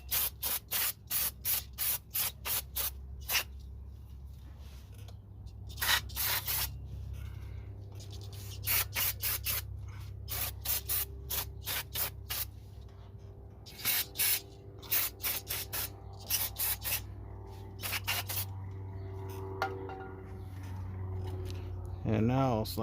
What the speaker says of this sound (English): I'm gonna hit it with some brake cleaner.